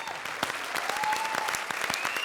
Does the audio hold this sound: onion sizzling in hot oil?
no